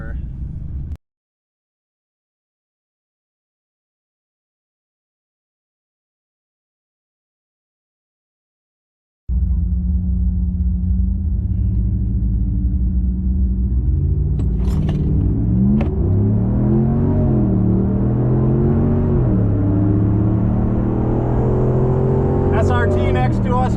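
A 2019 Ram Hemi truck on a quarter-mile drag strip: a brief burst of sound, then several seconds of silence, then a loud, sustained engine roar that climbs steadily in pitch through the gears right up close.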